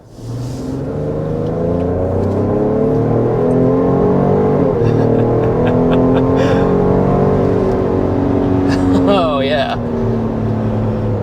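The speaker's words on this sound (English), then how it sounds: "let's go ahead and get started with that hard acceleration" A 2025 Ford Explorer Platinum with a 400-horsepower V6 accelerates hard from inside the cabin, its engine note climbing steadily through the gears. The roar is loud and continuous, and someone talks over it.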